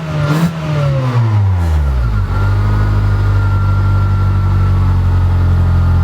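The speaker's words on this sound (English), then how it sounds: "I'm gonna give it some more gas." A Honda Civic engine revs up as more gas is given, its pitch climbing rapidly before settling into a loud, steady high drone close by.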